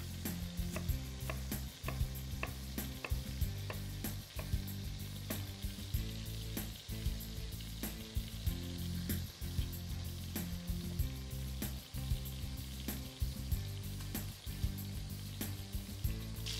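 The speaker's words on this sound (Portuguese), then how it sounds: "Começa com o alho também. Ok, isto precisa de fritar por uns 8 ou 10 minutos." Chicken and garlic fry in a pan, giving a continuous crackling sizzle with occasional pops and stirring scrapes, fairly quiet and close, with no one talking.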